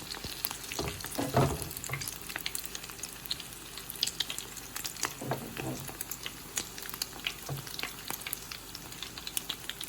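A bacon and shrimp egg foo young patty fries in hot oil, a steady close crackle and sizzle with scattered sharp pops and occasional stirring or scraping sounds.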